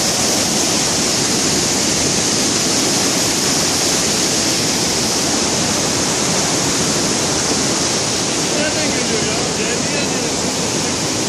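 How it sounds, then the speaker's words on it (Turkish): Erikli waterfall in full flow, heard in early March as a loud, dense, unbroken roar of falling water that fills the whole scene without a break. "Şelale coşmuş."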